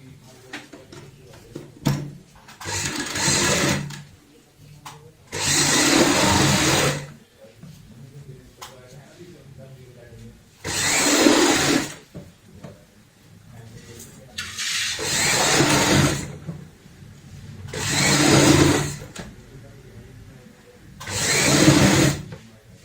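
A sewing machine stitches a strip for a handmade purse bag in six loud, separate bursts of rapid whirring, each lasting a second or two, with quiet pauses between them.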